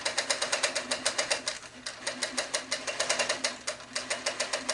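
A sewing machine stitches through a quilt, its needle hammering in a fast, steady rhythm of close, loud strokes that briefly slows and stops before running on again, with no talking.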